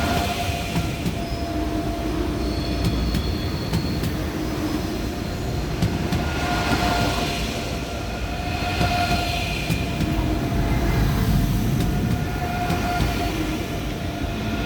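An ICE train at Munich main station rolls through a steady, continuous rumble with faint wheel squeal and clanking, loud and close throughout, with no talk.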